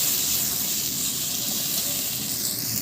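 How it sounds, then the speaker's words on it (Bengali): Spices with salt and turmeric fry in hot oil for a lentil-fritter curry, giving a steady, close hissing sizzle that holds evenly throughout with no talking. "আবারও ভালো করে ভেজে নিচ্ছি।"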